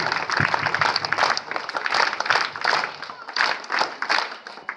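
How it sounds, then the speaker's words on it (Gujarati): Schoolchildren at a primary school Independence Day event clap for a donor, a dense sustained burst of applause from a crowd that stays loud throughout with some voices mixed in. "છોકરાઓ જોરદાર હરેશભાઈ માટે તાળી પાડી છે ત્રણ તાળી"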